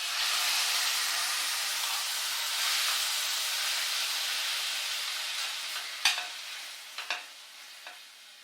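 Tomatoes go into a hot pan over browned onions, with a steady loud sizzle and hiss of frying, then a few sharp clinks of a utensil stirring near the end.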